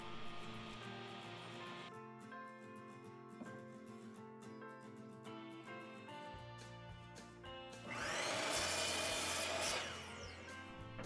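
A woodworking tool turning scrap wood into square posts about 1.5 by 1.5 inches for wooden lanterns, with a steady mechanical hum and a louder, brighter cutting rush near the end.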